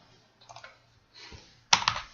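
Keys on a computer keyboard click in a few short bursts, quiet and close, with a louder cluster of taps near the end and no talk.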